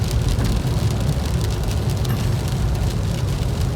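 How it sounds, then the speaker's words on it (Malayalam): Heavy rain that has fallen since the previous night drums steadily on a car parked at an office parking area, a dense, loud, unbroken patter heard close from inside the vehicle. "ഇപ്പം ഇന്നലെ രാത്രി തൊട്ട് തുടങ്ങിയ മഴയാണ്. ഇപ്പോഴും നിന്നിട്ടില്ല. പെയ്തുകൊണ്ടേ ഇരിക്കുന്നത്."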